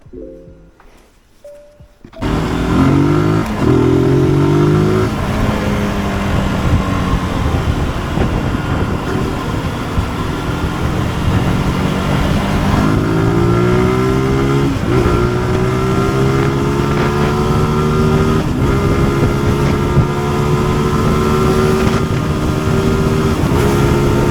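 Motorcycle ride, starting quietly before a loud engine takes over, with rising and falling revs as gears shift and steady wind rumble throughout.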